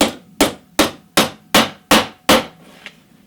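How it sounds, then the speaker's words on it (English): Hammer driving tacks into a wooden beehive brood frame: seven sharp, loud, evenly spaced strikes close by, followed by a fainter tap, with no talking. "we're putting the tacks in, that you don't hit the foundation with a hammer"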